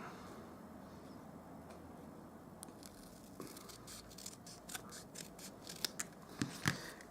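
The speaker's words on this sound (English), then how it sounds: "So I'll just use this now to cut across it." Scissors cut across card stock for a handmade snow globe card, a soft steady crunching that turns into sharper, distinct snips near the end, close and quiet with no talk.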